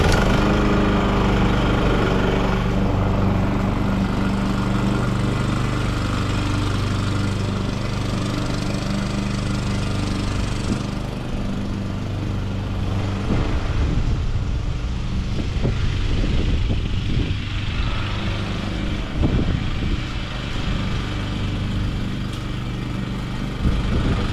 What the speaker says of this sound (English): I'm going to show you some footage of the mower actually being used.